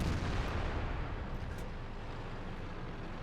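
A KV-4 tank cannon shot slams into a T-62A in World of Tanks, a loud broadband blast that opens strongly, then rumbles and slowly decays with a long noisy tail and no speech.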